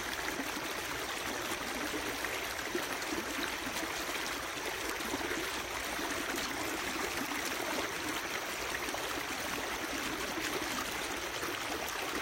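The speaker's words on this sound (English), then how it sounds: "Got the water coming from this direction." River water flows steadily around someone wading in the Fish River, a continuous broad rushing and trickling wash at moderate level with no break and no voices.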